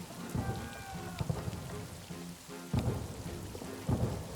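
Rain pours steadily over a World War I trench in the video game All Quiet in the Trenches, while loud, deep thunder rumbles break through it several times at irregular intervals.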